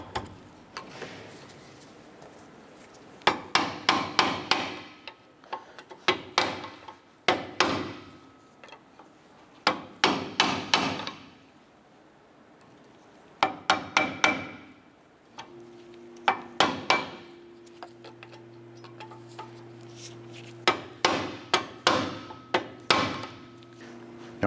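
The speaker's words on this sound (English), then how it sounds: "Just going to use our pry bar and tap the brake pad backing plate" Repeated sharp metallic taps of a pry bar against a seized brake pad backing plate on a 2008-2012 Honda Accord, coming in quick bursts separated by pauses, close and clear.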